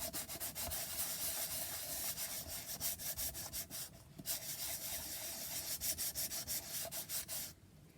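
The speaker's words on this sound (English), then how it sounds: "I'm going to sand this and gesso it" Hand sanding of a piece of packaging, a steady run of rhythmic back-and-forth scratchy strokes, close and fairly loud, pausing briefly midway and stopping just before the end, with no one speaking.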